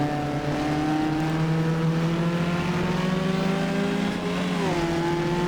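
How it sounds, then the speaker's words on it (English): A racing engine screams at sustained high revs in an Isle of Man road race video game, a loud steady whine that holds pitch before dipping briefly near the end, with no talking. "But then the engine is really screaming"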